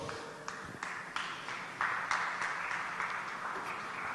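Audience applause at a business and economy literature fest talk, steady clapping from a moderately distant crowd, fairly faint and even.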